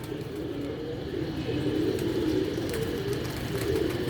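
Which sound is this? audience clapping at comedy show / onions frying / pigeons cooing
pigeons cooing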